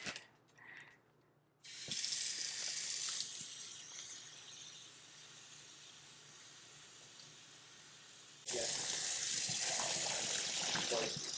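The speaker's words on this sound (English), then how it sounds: "Just pouring some water in the bag." Water gushes loudly from a tap into a bag of grass in two strong bursts, with a softer trickle and faint handling noises in between.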